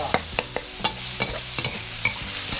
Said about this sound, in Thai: เอาพริกแกงที่เราตำไว้ใส่ลงไปเลยครับ